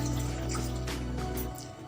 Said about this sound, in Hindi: 1 गिलास पानी डाल लेते हैं।